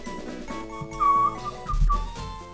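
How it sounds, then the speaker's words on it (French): Someone whistles a short tune of sustained, sliding notes over soft background sound during a Pokémon Fire Red Omega game stream. "Je me permets d'essayer de retenir un peu comment je peux siffler tout ça."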